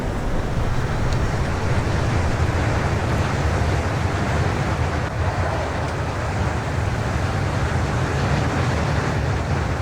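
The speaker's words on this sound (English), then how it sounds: "You can hear wind already." Steady, broadband wind rush roars through an open cockpit door of a Cessna Caravan in a flight simulator, a loud continuous whoosh without pauses or voices.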